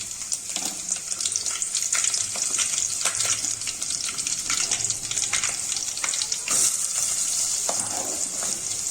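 Onions and green chillies frying in two tablespoons of oil for chicken curry, a loud continuous crackling sizzle with occasional stirring scrapes throughout.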